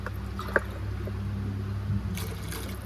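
Water poured into a cooking pot for ghee rice, a soft, continuous trickle with a small splash near the start and faint kitchen sounds around it.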